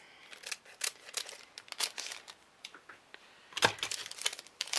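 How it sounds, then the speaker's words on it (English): Scissors cutting into a stamp packet, several quick snips and crinkles of paper and plastic at close range, in bursts with short pauses. "Oh, let me just cut this one."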